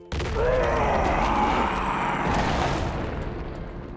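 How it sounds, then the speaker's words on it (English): A sudden heavy blast erupts and rolls on in a dense, rumbling roar that slowly fades over several seconds. "At that moment, Orurin sensed a powerful explosion ahead."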